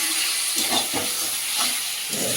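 Marinated goat meat from a large local goat dropped into hot oil over fried spices, giving a steady close hiss of sizzling with slight surges as pieces settle, no talk.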